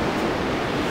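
Pacific Ocean surf at a beach, a dense, steady roar of breaking waves heard up close and loud, filling the moment without any talk.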